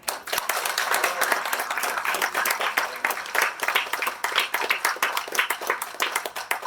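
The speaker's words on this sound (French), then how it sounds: "je pense qu'on peut vraiment l'applaudir." A church congregation applauds during a Mass, steady dense clapping from many hands that fills the space continuously at moderate loudness, with no voices rising above it.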